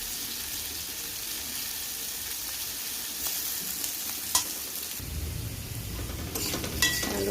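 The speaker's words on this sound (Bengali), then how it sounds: "একটু ভালো করে ভেজে নিই।" Small whole potatoes fry in a pan of oil for aloo dum, with a steady sizzle broken by scraping stirs, and the crackle grows fuller and louder partway through.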